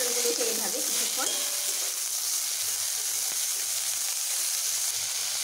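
Pointed gourd, salted, fries in hot oil with a continuous close sizzle and a few stirring scrapes early on, no talking.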